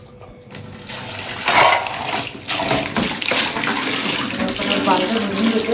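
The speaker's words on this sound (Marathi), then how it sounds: "चला जरा बालदी भरायला लावते." Water from a tap runs into a bucket with a steady close gushing and splashing rush that keeps going throughout and swells slightly as the filling continues.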